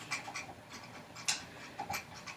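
A pet rabbit rattles its cage and water container, giving quiet, irregular clicks and taps in short bursts, with one sharper knock near the middle, close by in a quiet room.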